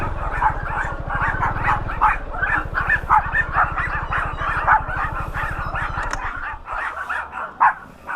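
Several dogs, including Pomeranians, a husky and a German shepherd, bark close by in a rapid, overlapping chorus with yips and a whimper, continuing almost without pause.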